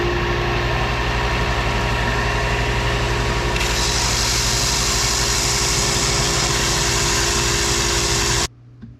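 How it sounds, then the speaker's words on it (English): A live-edge wooden vase is sanded while it spins on a woodturning lathe, giving a loud, steady whir with a hissing edge that stops abruptly near the end. "I'm gonna sand it."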